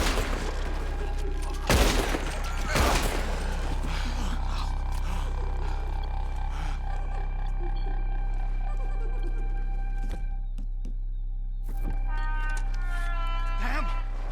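Red Dead Redemption 2 gunfight: two loud sharp gunshot blasts ring out early, followed by sustained rumbling action and scattered cracks. Voices shout over the din.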